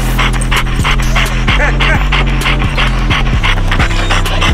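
A young dog panting hard during a spring pole session, rapid steady breaths close and loud over a constant low rhythmic backing sound.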